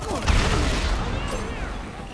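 Gunfire in the video game Dead Rising 3 sounds as a dense, close burst of shots over a churning mix of game sound, with voices heard in the background.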